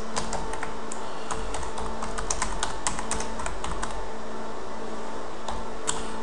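Steady, fast clicking of a computer keyboard as someone types in a quiet room, the keystrokes close and continuous, with no talking.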